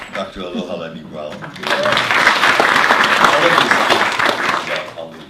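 Someone speaks briefly, then an audience breaks into sustained, fairly loud applause for a panelist being introduced at a discussion on letters from Hawaiian royalty, the clapping continuing to the end.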